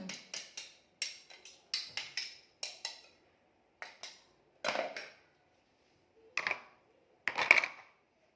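Garlic being pounded or ground by hand, a series of sharp, close knocking strikes in irregular bursts separated by short pauses.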